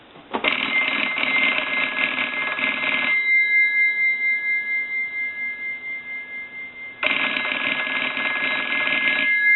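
A Northern Electric Galion rotary desk telephone rings with its mechanical bell, two loud clattering rings separated by a long pause filled with a pulsing tone.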